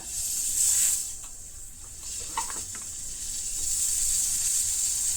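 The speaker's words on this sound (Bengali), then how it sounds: "এমনি করে একটু একটুখানি টিপে রাখতে এই যে ভাপটা বেরিয়ে যাচ্ছে" Steam hissing steadily from a pressure cooker used for boiling peas, a bright, faint hiss that fades slightly and then swells again, with a few soft clicks in between.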